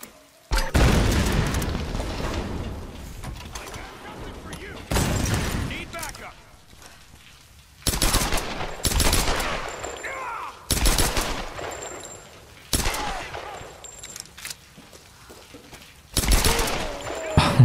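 Gunfire and explosive booms from the video game Tomb Raider come in several loud bursts separated by quieter gaps, some rapid and rattling, others heavy single blasts, with game sounds and a voice in between.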